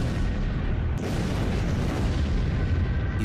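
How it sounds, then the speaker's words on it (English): A sustained booming roar depicts the fireball exploding above Siberia's Tunguska forest, loud and dense throughout, with a sharp crack about a second in and no speech. "the fireball entered our atmosphere and violently exploded above Siberia's Tunguska forest"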